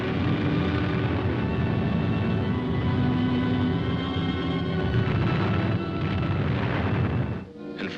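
Bombing in the WWII Pacific war, a continuous heavy roar of blasts and rumbling booms on an old film soundtrack, loud and sustained before cutting out near the end.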